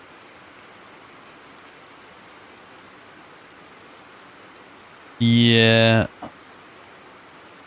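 Steady rain falls in the video game Resident Evil, a soft, even hiss running unbroken throughout while a single voice speaks briefly near the end.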